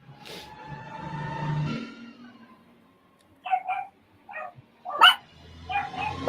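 A chained dog barks in several sharp bursts partway through, after a stretch of low background rumble and murmur, the barks moderately close and loud.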